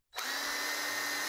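A power drill drives a timber lock screw into a cabin beam, spinning up from silence into a steady loud whine that holds for just over a second, close by and alone.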